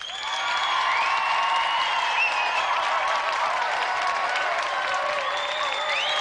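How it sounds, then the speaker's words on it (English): A television game show studio audience applauds for a contestant, a full, even wash of clapping with some cheering voices that swells in and holds steady to the end. "Round of applause for Peter."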